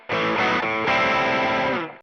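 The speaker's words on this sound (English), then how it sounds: "Let's play that overdrive." Electric guitar played through an overdrive effect on a HeadRush unit running NAM amp modeling, a loud sustained distorted chord strummed twice, thick and saturated, alone without talk.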